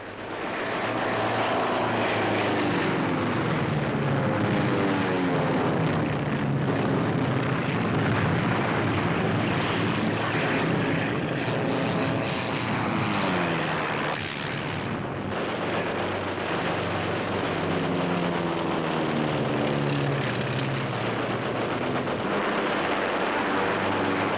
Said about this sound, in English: Japanese planes bomb and strafe the incoming forces